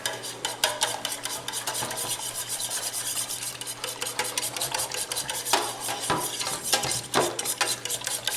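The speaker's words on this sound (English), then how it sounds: "we're going to add some milk to this. And we're going to whisk this up." Egg wash of egg and milk whisked briskly in a bowl for breading wild boar, a steady, close, rapid scraping and clinking that runs without a break, with a few sharper taps of the whisk against the bowl and no talking.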